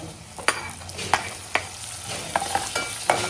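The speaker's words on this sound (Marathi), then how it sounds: "आता आपल्या याच्यामध्ये आपलं टोमॅटो टाकलेला आहे" A tomato tossed with masala paste sizzles steadily in a pan, with regular spoon scrapes and stirring strokes cutting through the frying hiss, close and fairly loud with no talk.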